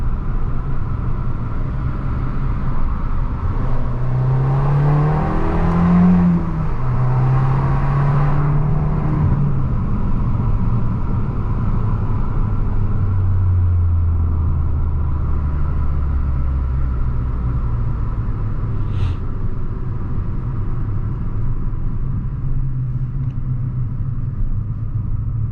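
Abarth 500 driving on the German Autobahn, heard from inside the cabin as a steady loud road and wind rumble with the engine note rising and falling through gear changes.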